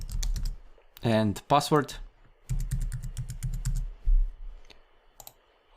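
Someone types sign-up details on a computer keyboard in quick bursts of close key clicks, with a short stretch of speech between the typing runs.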